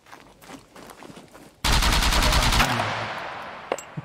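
Gunfire in the SCUM survival game: a sudden loud burst of rapid automatic shots that rings out and slowly decays, after quieter scuffling steps, with a couple of faint clicks at the end.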